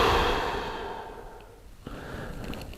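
A single long exhale during a neck, upper back and shoulder mobility exercise, loud and close at first, then fading to quiet, with a faint rustle near the end.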